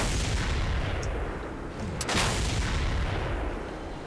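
Gunshots in the Mad Max game, heard as a few faint, distant cracks over a low rumbling background, with one sharper shot near the middle.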